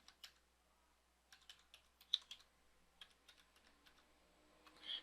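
A password being typed on a computer keyboard, a quiet, sparse sequence of separate key taps with irregular pauses between them, close to the microphone, with no voice present.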